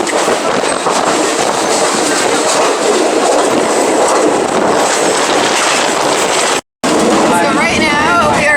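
Loud, steady rumble of a moving train to Bangkok with clickety-clack rattling and clatter from the carriage, continuous throughout and cut by a brief dropout near the end.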